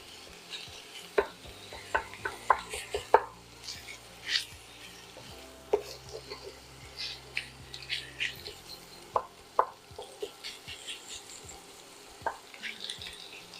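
Italian sausage cooking in its own grease in a large pan, with repeated sharp utensil scrapes and stirring knocks over a quiet background sizzle.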